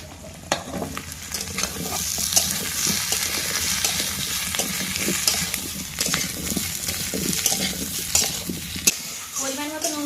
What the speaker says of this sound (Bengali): এবার কেটে রাখা আলুগুলো দিয়ে দেবো।